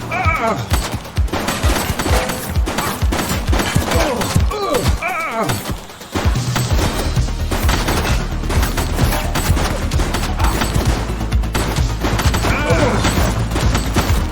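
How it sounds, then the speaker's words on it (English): Gunfire in the police game The Precinct, a dense run of shots and bursts over steady game music and noise, loud and continuous through most of the clip. "Suspect is down. He's shooting!"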